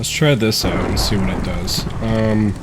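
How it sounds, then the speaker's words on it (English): Low rolling thunder rumbles through a storm outside while someone talks, a broad, continuous roar filling the gaps between his phrases. "Sorry for the thunder that you guys hear."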